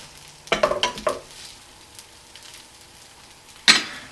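Stuffed French toast with strawberries and cream cheese flipped in a hot pan, giving short bursts of sharp sizzling and clattering, then a quieter steady fry and a final loud sizzle near the end.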